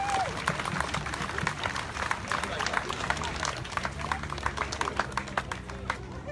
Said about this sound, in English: You guys give yourselves a round of applause also.